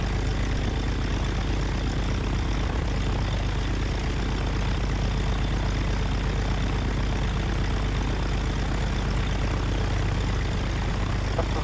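Light propeller airplane in flight near Spartanburg, a loud, steady engine and propeller drone heard from inside the cabin for the whole stretch, no voices.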